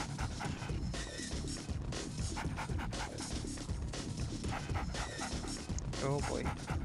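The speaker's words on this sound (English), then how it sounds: "No, don't go for my doggy." An attack dog in Red Alert 2: Yuri's Revenge panting and barking during a custom single-player map, mixed with other game sounds and a voice talking over it.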